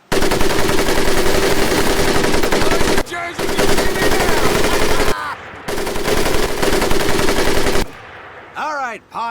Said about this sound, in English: The other will fire the weapon.